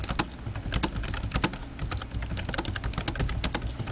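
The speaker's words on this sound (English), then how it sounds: "So I can type in my note" Rapid bursts of keystrokes on a computer keyboard as a note is typed, crisp clicks in uneven runs with short pauses, close and clear with no talking.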